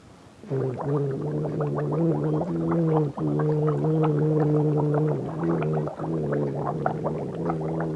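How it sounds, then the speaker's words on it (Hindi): Someone gargles a mouthful of water during a breathing and face-care routine, producing a long, bubbling throaty rattle with a couple of short breaks, close and steady, with no talking. "गड़गड़ा करके वो पानी ला हमन बाहर निकाल दे।"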